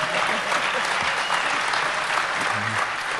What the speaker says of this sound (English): don't applaud so loud